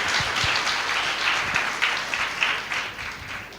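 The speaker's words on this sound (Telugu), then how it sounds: "క్లాప్స్ కొట్టాలి గట్టిగా" A church congregation at a Sunday service claps loudly, a dense, sustained burst of many hands that carries on for several seconds.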